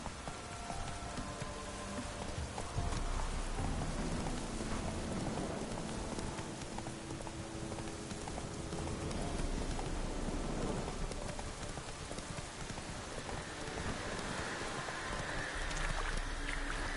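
Roach's hooves galloping in Witcher 3, a steady rapid clatter under what sounds like rain and a dense wash of ambient noise.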